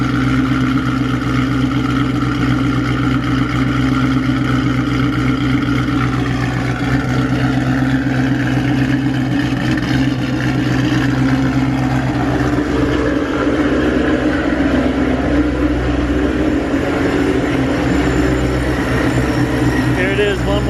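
A built 5.8-litre Ford Shelby GT500 V8 idling loudly right after its first startup, a deep continuous rumble with a rough, throaty exhaust drone held steady and close throughout.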